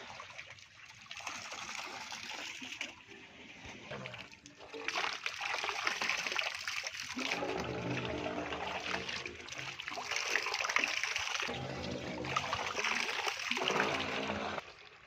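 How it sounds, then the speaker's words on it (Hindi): Water is poured into a tubewell, a continuous rushing and splashing flow that swells and stays fairly loud, with faint voices in the background. "पानी डाल रहा है।"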